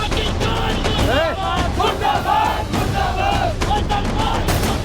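A large crowd at a Jaipur street protest chants anti-Pakistan slogans, many voices shouting together in loud, rising and falling waves under a constant roar of noise.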